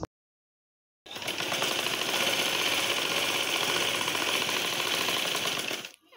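A sewing machine stitches fabric ribbons for a round baby frock, starting after a second of silence and running at a steady, fast, loud rattle for about five seconds before stopping.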